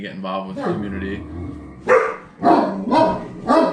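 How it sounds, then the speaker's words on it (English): Dogs bark in several sharp, loud barks under and between a person talking close to the microphone. "Listen to dogs barking."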